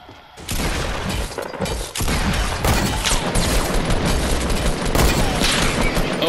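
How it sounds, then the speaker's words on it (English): Rifle fire in a shooter video game comes as a loud, dense, sustained barrage of gunfire and impacts after a brief quieter opening, close and harsh, with no speech. "Shot him twice with the freaking rifle."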